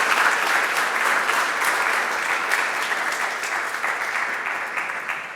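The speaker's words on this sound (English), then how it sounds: "So can we have a round of applause for Krystal?" A workshop audience gives a round of applause, brisk continuous clapping that holds steady and then slowly fades toward the end.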